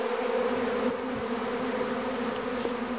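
A honeybee swarm arriving at a hive fills the air with a loud, steady, close buzzing drone of many bees that holds unbroken throughout, with no one speaking.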